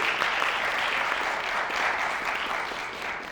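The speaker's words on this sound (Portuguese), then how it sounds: "E eu peço então uma salva de palmas para a equipe e para os nossos preletores." A church conference audience applauds the team and speakers, a steady, full round of clapping from many hands that continues evenly without pause.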